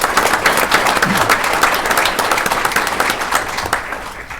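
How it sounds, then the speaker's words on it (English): Steady, fairly loud applause from an audience at a school district event honoring students from pre-K through 12th grade, many hands clapping densely and evenly with little variation until it thins slightly near the end. "Let's give them another round of applause"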